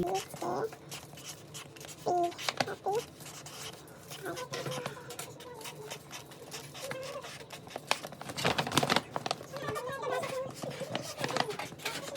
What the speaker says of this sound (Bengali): তো এখানে একটু লিখে দিই আমি, হ্যাপি বার্থডে